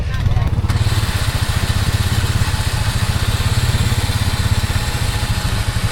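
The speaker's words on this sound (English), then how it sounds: "It's idling good with the exhaust under." Mud buggy engine idling with its exhaust submerged at a brick lake, a loud steady low chugging pulse with rapid even beats, close and continuous throughout.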